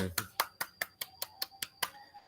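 Applause in a teacher-training class session, heard as about eight crisp, evenly spaced claps from a single close pair of hands in an otherwise quiet room.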